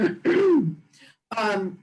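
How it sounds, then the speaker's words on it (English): Someone clears their throat and coughs in a short, rough burst, close to the microphone, with brief gaps between the harsh sounds. "you really want your moderator to have a coughing fit at the beginning"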